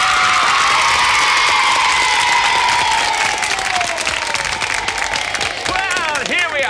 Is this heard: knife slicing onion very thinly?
no